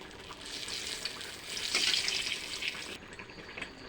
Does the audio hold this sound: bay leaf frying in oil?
yes